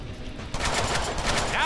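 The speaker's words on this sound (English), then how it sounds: "Now I have a machine gun." Rapid machine gun fire in the Deadpool video game, a fast rattling burst that starts suddenly and continues steadily over background game sound, loud and dense.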